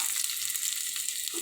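Chopped ginger sizzles steadily in hot butter in a pan, a soft, even crackling hiss with no voices.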